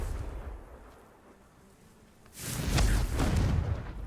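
A Confringo fire spell blast in Hogwarts Legacy: a quiet, low rumbling lull, then a loud booming burst with a fiery whoosh that holds and slowly fades.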